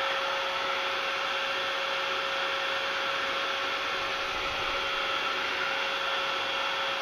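A heat tool blows continuously on a paperclip butterfly craft piece to dry its paint, a steady loud whooshing drone with a thin tonal whine, close and unbroken, with no voices.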